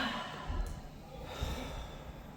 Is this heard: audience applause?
no